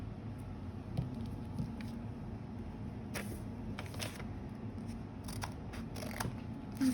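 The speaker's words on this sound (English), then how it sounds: "Then you get the scissors." Scissors snipping paper while making a folded paper alicorn book: a few scattered, faint crisp cuts, some in quick pairs, over a low steady background hum, with no talking.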